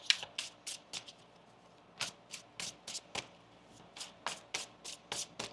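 Tarot cards being shuffled by hand, a run of quick riffling bursts in an irregular rhythm, close and clear with no talking.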